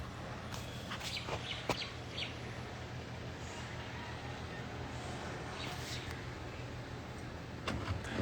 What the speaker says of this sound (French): c'est pas galère les coqs qui réveillent